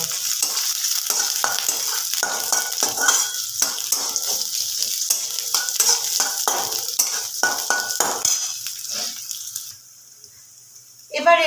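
Onion being stir-fried in hot oil, sizzling steadily under repeated scraping strokes of a spatula in the pan, then fading to a quieter hiss before a short final stir.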